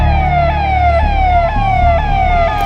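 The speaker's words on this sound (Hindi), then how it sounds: "अक्रूर के जंगलों में पुलिस की गाड़ियों के सायरन गूंज रहे थे।" Several police car sirens wail and echo through a forest, their falling tones overlapping loudly and continuously over a low rumble of vehicle engines.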